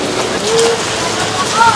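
Steady rain hissing on a surface, close and fairly loud, with a faint voice underneath.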